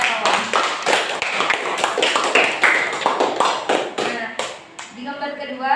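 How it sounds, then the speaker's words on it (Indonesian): A classroom gives a student a round of applause, a brisk burst of many hands clapping close by that tapers off at the end, with a voice speaking briefly afterward. "Berikan aplaus dulu untuk Yayat awal"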